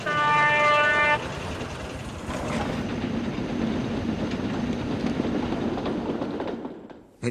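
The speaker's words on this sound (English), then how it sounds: "The Limited rushed by with a growl and a roar" An express train in the Trainz railway simulator sounds a brief horn blast, then rushes by as a loud, sustained rumbling roar that fades out abruptly at the end.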